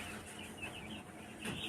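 Chickens at a poultry farm, a faint cluster of soft clucks and chirps from the birds, heard at a distance.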